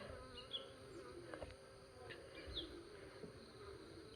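Honeybees at an open hive during a two-frame colony split, with drones among them, make a steady near buzz and hum, with a few brief louder passes close by and no talk.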